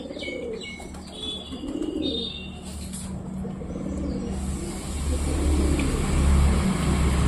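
Pet pigeons coo in soft, rounded bursts near a cage, over a steady background hum with faint chirps from other birds, the ambient noise swelling toward the end.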